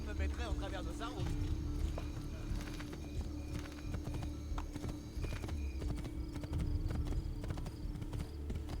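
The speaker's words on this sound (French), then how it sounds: "Je prends un cheval." Rhythmic hoofbeats of a horse in Assassin's Creed 2 clip-clop steadily throughout, joined by a brief whinny early on and background tones.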